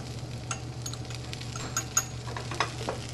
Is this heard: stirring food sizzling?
yes